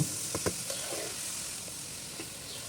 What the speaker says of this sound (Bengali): তারপর কলার থোড়টা দিয়ে দিব। তারপর একটু নাড়াচাড়া দিয়ে নিব।